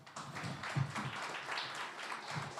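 An audience applauding a speaker coming on stage at a conference on circularity in construction, steady dense clapping from a crowd that holds at an even level throughout.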